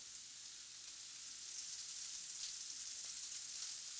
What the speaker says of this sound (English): There are papas bravas going. Real hot pan, real hot oil.